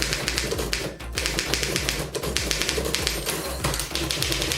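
Rapid keyboard typing, a dense run of crisp clacking keystrokes with brief pauses, close and clear with no voices.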